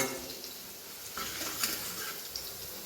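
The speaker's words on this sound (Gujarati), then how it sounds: "આપણી ડુંગળી મસ્ત ફ્રાય થઈ ગઈ છે" Onion and curry leaves fry in hot oil for khichdi made with puffed rice, giving a soft, steady sizzle with light stirring clinks near the pan.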